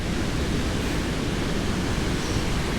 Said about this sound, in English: Crossing Van Trump Creek on the Comet Falls Trail.